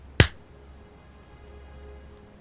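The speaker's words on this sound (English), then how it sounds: "I'll do a clap and see." A single sharp hand clap, close and loud, then near silence.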